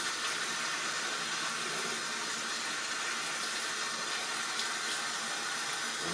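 Water runs steadily from a tap as excess leather dye is rinsed off a knife sheath, a continuous close hiss and splash with no speech.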